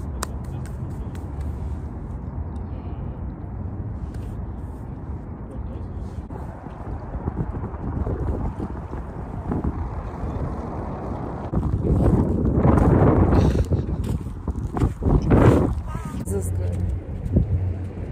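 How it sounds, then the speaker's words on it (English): Wind blowing hard outdoors, buffeting the microphone with a steady low rumble that swells into stronger gusts toward the end, and a person talks over it. "it's so windy"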